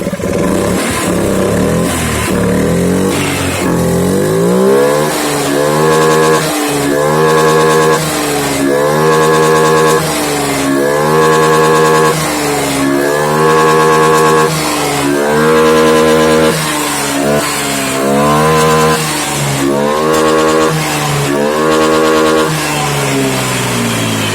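A Honda Vario scooter with a sputtering, underpowered fault idles, then revs in repeated short bursts, each throttle blip swelling loud and close before dropping back to a steady idle.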